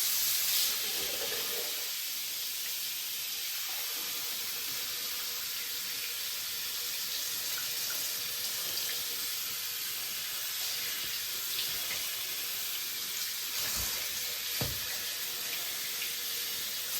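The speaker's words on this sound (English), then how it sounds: "Just run the water on it." Water runs steadily from a tap into a sink as a close, constant hiss, with a couple of faint knocks near the end.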